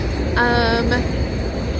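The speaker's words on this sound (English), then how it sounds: "So that tram stopped, and I tried to get on," A tram pulls up at a stop in Sofia, Bulgaria, as a loud steady rumble with a brief high brake squeal or whine layered over it partway through, close by and continuous.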